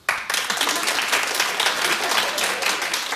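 Audience in a television talk show studio bursts into steady, dense applause after a short quiet start, sustained clapping filling the whole stretch.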